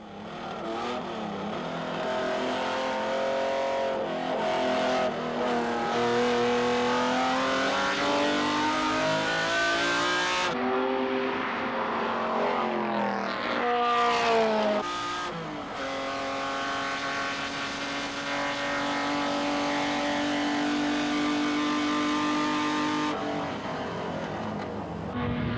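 Lancia Stratos rally car in 1977 livery driven hard on the Tour Auto, engine revving loudly through repeated rising gear pulls with sharp shifts and brief lifts, close and sustained.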